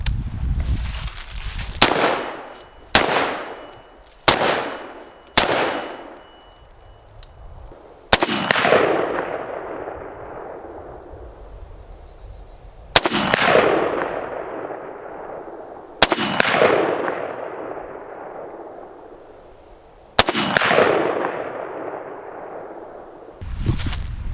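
A rifle fired during a shooting drill: loud, close gunshots, several in quick succession at first and then single shots spaced seconds apart, each with a long echoing decay outdoors.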